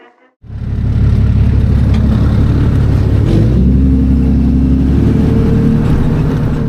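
A vehicle towing a small trailer, a Bantam T3-C, starts up and drives at a steady pace, a loud, close engine drone with a low rumble that holds steady after a short quiet start, no voices.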